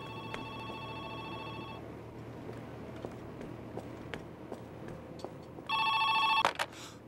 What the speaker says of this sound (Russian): когда я нажимаю на телефон, он начинает звенеть